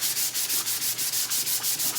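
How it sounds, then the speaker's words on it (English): A sanding sponge scuff-sands a wooden rolling pin in quick, even back-and-forth strokes, a close, light, rhythmic rasp with no talking. "we're just gonna give it a good little scuff sand"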